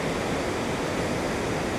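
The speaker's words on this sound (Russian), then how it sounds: "насколько сильный этот поток воды" A powerful mountain river waterfall in Tajikistan gives off a loud, steady, dense roar of rushing water with no pauses and no voices.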